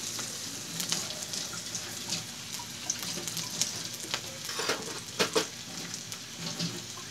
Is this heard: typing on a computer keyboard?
no